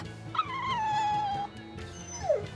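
A dog lets out a long, drawn-out whimper followed by a shorter falling whine in the video game Tales of Berseria, heard close and fairly faint over quiet background game sound.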